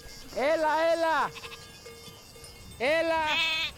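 Sheep and goats on the Greek island of Kefalonia, with two loud, close, wavering bleats separated by a short pause.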